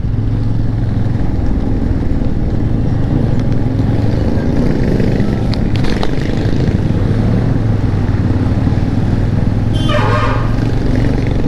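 Motorcycles including a Bajaj Pulsar NS and a Royal Enfield Bullet ride along a highway, making a loud, continuous engine drone with heavy wind rush that stays close throughout. A brief higher whine passes near the end.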